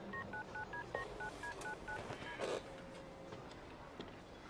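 Quiet series of about ten telephone keypad dialing tones at an even, rapid pace, followed by a short sustained tone, with faint background ambience in a hospital setting.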